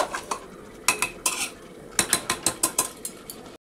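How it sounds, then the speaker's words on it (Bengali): A spoon stirs bottle gourd and chicken curry in a cooking pot, a series of sharp metallic scrapes and clinks in quick, uneven bursts, close and fairly loud with no talking. "এই দেখো এবার এটাকে আবার নাড়াচাড়া করে একটুখানি"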